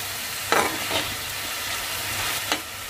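Ridge gourd frying in an oil pan, a soft steady sizzle broken by a few sharp stirring scrapes, faint and close with no talk.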